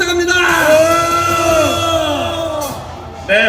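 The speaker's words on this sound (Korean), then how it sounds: "큰 박수 함성 부탁합니다." A large outdoor political rally crowd in Seoul cheers and whoops loudly, with yells and shouts carrying over a dense roar that holds steady before briefly dipping near the end.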